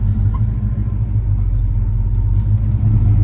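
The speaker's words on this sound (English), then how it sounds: "it's got a nice little growl to it when you snap the throttle" 1985 Chevrolet Monte Carlo V8 fitted with dual Super 40 exhaust, a deep steady rumble heard close and loud as the car cruises, with no talk over it.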